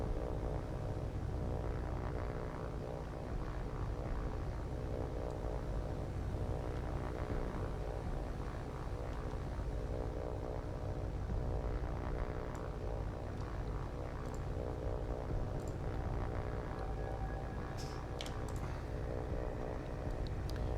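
Aircraft engine drone from fighter planes circling in the War on the Sea naval combat game, a continuous loud, dense engine roar with some faint higher clicks near the end.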